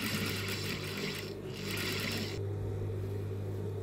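Sewing machine stitching the armholes, fronts and back of a garment, running steadily with a brief pause around the middle and then a lower, quieter hum to the end.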